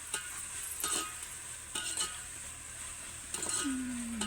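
Food being stirred in a frying pan with rice and ginger-garlic paste, a soft scraping stir with faint sizzle and a few clinks of a spoon against the pan, close and fairly quiet.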